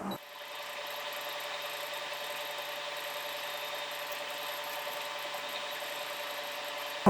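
A Highlead GC20618-2DZA double-needle industrial sewing machine running a stitch cycle with automatic backtacking, heard as a steady close mechanical whir and rapid clatter with a faint high whine, running alone.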